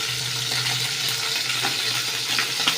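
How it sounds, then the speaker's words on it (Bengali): Soft, steady sizzling of bam fish (eel) frying in hot oil, quiet and continuous with faint occasional clinks, no one speaking. "এবার তেলে ছাড়বো একটা করে ছেড়ে দিয়েছি। এবার এখানে হালকা করে ভেজে তুলে নেবো।"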